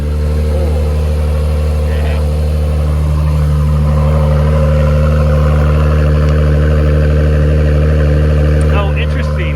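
An Acura NSX sports car engine with quad exhaust warms up in a deep, steady idle, rumbling loudly throughout, smooth and constant, with faint voices talking beneath it.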